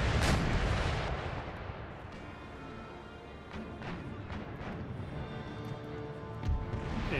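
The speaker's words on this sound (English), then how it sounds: "Shot into the hull." Naval cannon shots striking a ship's hull in the video game Empire: Total War, a loud booming impact at the start followed by scattered crashing hits and distant gunfire rumbling.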